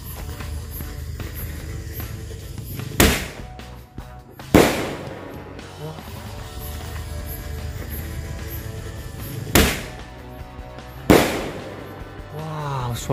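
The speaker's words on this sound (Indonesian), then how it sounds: "Ini mercon bola pelontar 1 kali bunyi guys." Assorted Seal launcher ball firecrackers set off outdoors, four sharp loud bangs spaced a second or several apart, each with a short echoing decay over a steady background hiss and rumble.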